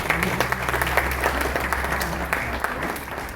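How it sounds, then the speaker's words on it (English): Audience applause at a Sikh community conference in Nairobi, Kenya, a brief round of many hands clapping, fairly close and even, over a low steady hum. "Just a small round of applause"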